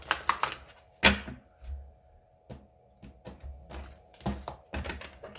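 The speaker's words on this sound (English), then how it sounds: "Okay, one more shuffle." Tarot cards are riffled and shuffled in quick bursts of dry, papery flutter and tapping, separated by short pauses, close and fairly quiet.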